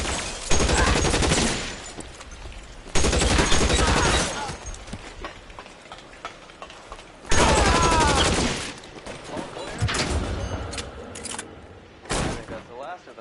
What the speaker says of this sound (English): After a quick shootout with the bad guys